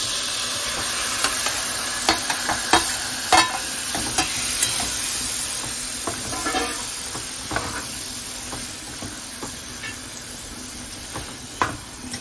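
Chicken liver fries in masala in a pan, with a dense steady sizzle and frequent crackling pops and occasional stirring scrapes, near and moderately loud, with no one speaking.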